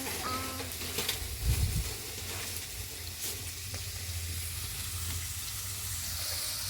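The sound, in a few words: frying red amaranth greens in a pan on a wood fire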